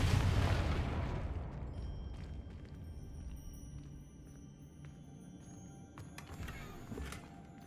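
Spell explosions from the Confringo blasting curse in the game Hogwarts Legacy, played on hard mode: a loud booming blast at the start rolls into a long rumbling decay, with fainter crackling bursts and pops later.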